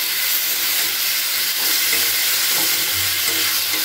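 Ground spices with a splash of water fry in a pan for a rui fish curry with cauliflower and potato, giving a loud, continuous close-up sizzle and hiss with soft stirring underneath.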